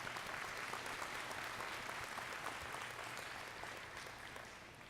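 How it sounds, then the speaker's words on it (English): Applause from a commencement ceremony audience, a dense steady clapping that gradually fades over a few seconds. "A round of applause."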